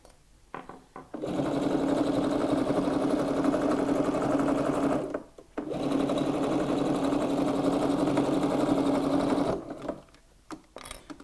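A sewing machine stitches through fabric layered with wadding while a reversible shopper bag is made. It runs steadily in two long close bursts with a short pause between them, and the motor hum stays loud and even.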